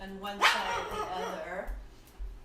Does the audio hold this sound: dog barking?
yes